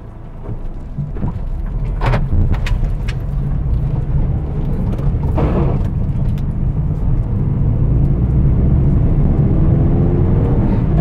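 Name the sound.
Hyundai i10 Sportz car being driven, engine and road noise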